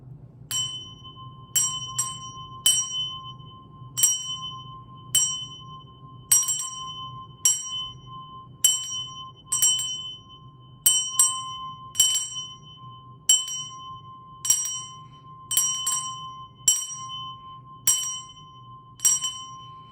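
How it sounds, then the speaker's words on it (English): A meditation bell rung repeatedly in a quiet sacred space, bright clear strikes with lingering ring, spaced about one to two seconds apart over a low steady hum, no speech. "Oh, I'm going to use this bell."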